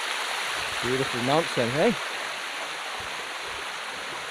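A jungle waterfall in Siem Reap, Cambodia pours with a steady, dense rushing roar close by, and someone speaks briefly over the constant water noise.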